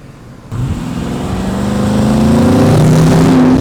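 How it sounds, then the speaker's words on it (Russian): A car engine starts up abruptly and then revs, its pitch climbing steadily as it accelerates nearby in Dubai. "Чтобы звук машины подснять"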